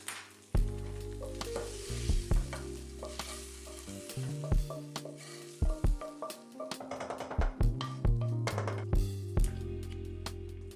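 Tofu simmers in soy sauce and coconut milk in a pan, a steady sizzle and bubbling under repeated spoon or spatula stirring scrapes and clacks.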